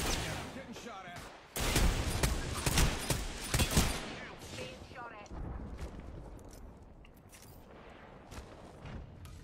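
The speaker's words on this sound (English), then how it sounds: "I'm getting shot at." Bursts of gunfire in the video game Apex Legends, loud rapid volleys packed into the opening seconds, then thinning into scattered shots and softer combat noise with a player talking over it.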